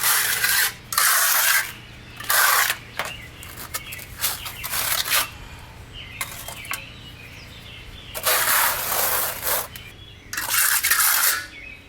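A steel trowel scrapes a thin first scratch coat of parge mortar onto a concrete block wall in repeated rasping strokes, each a few seconds long, separated by short pauses, close and clear with no talking.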